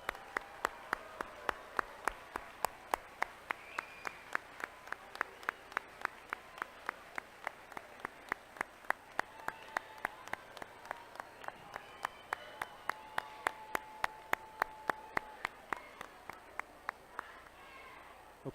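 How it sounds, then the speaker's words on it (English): A school audience at a Moving-Up Day ceremony gives a round of applause for caregivers and parents, with a loud, sharply regular clap repeating throughout over a softer crowd of clapping and murmured voices. "Let's give them a round of applause."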